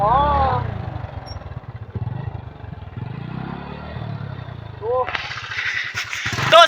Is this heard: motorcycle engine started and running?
yes